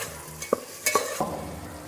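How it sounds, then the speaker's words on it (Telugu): Ginger garlic paste spooned into hot oil for a Konaseema coconut rice, giving a soft sizzle with a few sharp spoon-and-pan clinks and stirring scrapes, close by with no talking. "అల్లం వెల్లుల్లి పేస్ట్ ఒక స్పూన్ వేసుకుందాం."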